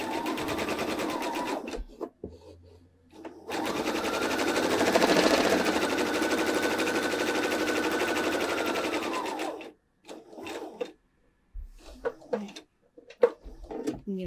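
A sewing machine runs steadily for several seconds, stitching two fabric pieces placed right sides together, loud and close, then stops; brief handling clicks and low voice sounds come before and after.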